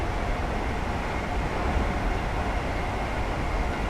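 Train hauled by an electric locomotive in Train Simulator 2017, a steady dense rolling rumble and hiss that holds constant throughout, with no talk.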